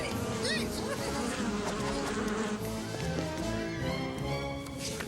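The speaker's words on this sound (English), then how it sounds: "I guess the killer bees aren't feeling very homicidal today." Killer bees buzz in a continuous, wavering drone with overlapping whines from several insects, fairly close and steady throughout, with a faint voice briefly under it.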